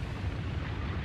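A dense, steady low rumble of a bomb explosion in the video game Trails of Cold Steel roars continuously, loud and heavy, with no speech over it.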